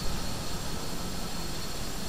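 Jet aircraft engine roar in the Batman Arkham Asylum video game, a steady broadband rushing drone that stays constant and fairly loud for the whole short span, with no voices.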